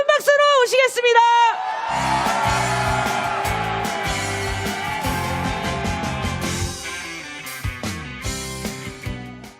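An audience at a Democratic Party political gathering welcomes lawmaker and historian Kim Jun-hyuk with applause and cheering. A loud shouted voice opens, then dense, sustained crowd noise follows and slowly tapers.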